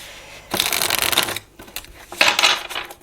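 Tarot cards shuffled, laid out and handled on a table in two close bursts of papery riffling and slapping, separated by a short quieter pause, with no talking.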